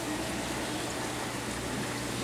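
Water pumps run in a mud filter tank in a showroom, giving a steady, even broadband rush and hum with no breaks, fairly quiet and with no voices.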